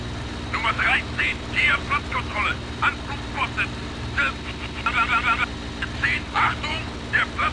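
In IL-2 Sturmovik (2001), a warplane's engine drones steadily on the runway during takeoff, a constant low hum under frequent bursts of radio-style voices.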